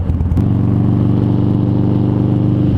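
A Harley Dyna motorcycle engine runs close by with a deep, loping rumble. A short burst of noise opens the clip, and then the pulsing low idle holds steady throughout.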